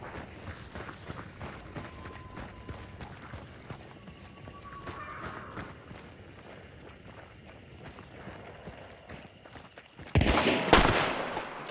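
Gunfire in the video game Hunt: Showdown, a single loud broadband blast near the end after a stretch of quieter game ambience and scattered small noises.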